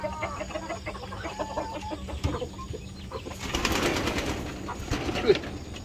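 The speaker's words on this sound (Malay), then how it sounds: "Ayam Rhode Island ni dia relax, dia tak kelang kabut." Rhode Island chicken clucking in a home garden setting, short clucks and soft calls repeating at a close distance over a steady low background hum.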